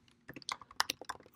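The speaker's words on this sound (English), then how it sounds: "So I shall type in npx" Computer keyboard typed on at a quick uneven pace, a short burst of crisp key clicks, close and clear with no talking.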